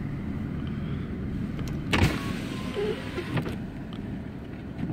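A car pushing through deep snow on a New York City street during the first blizzard of 2016, with a steady low rumble of engine and churning tires, one brief louder knock midway, and no talking.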